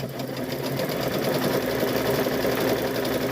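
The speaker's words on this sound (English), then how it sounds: "Okay, so we're gonna stitch this last one right around here." Sewing machine stitching a quilt block, a steady close mechanical whir with rapid even needle pulses throughout, alone.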